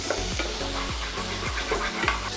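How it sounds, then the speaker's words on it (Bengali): Chicken pieces fry in a pan for a homemade white-sauce pasta, giving a steady, close sizzle broken by regular scraping strokes of stirring. "ততক্ষণ অবধি চিকেনটাকে কিন্তু আমরা ফ্রাই করব।"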